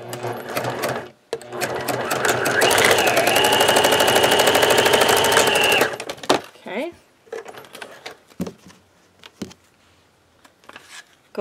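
A sewing machine stitches fabric made from trash, running in a loud, fast, steady burst for several seconds, followed by shorter stops and starts, clicks and handling noises.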